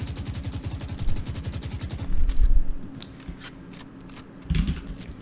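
Rapid SMG fire in Valorant rattles out as one fast, even burst of closely spaced shots for about two seconds, then trails into scattered clicks and a few faint thuds.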